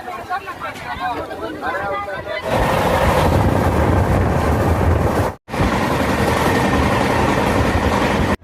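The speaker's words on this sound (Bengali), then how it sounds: "আজকে যাত্রা করব ট্রেন নম্বর one two eight five nine মানে গীতাঞ্জলি সুপারফাস্ট এক্সপ্রেসে" Gitanjali Superfast Express running during stormy weather: a loud, steady rumble of the moving train fills most of the clip after a stretch of talk, with one brief drop near the middle.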